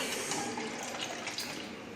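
Water pours steadily into a container during a kitchen float-and-sink demonstration with a potato and tomato, giving a continuous close splashing rush that holds even for about two seconds with no talk.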